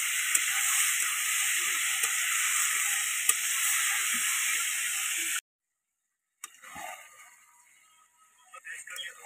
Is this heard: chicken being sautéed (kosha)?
yes